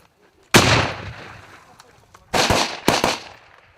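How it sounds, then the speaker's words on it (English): Live-fire training shots ring out outdoors: one sharp, loud crack with a long echoing tail, then after a pause two more close reports in quick succession, each decaying into reverberation. "And now the training of live fire is going to start."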